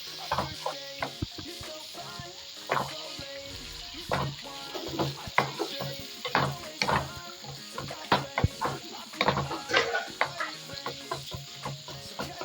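Chicken masala cooks in a pan as water is poured in, a busy mix of sizzling, bubbling and repeated scraping stirs with clatters of the spoon against the pan, close and continuous, with no talking.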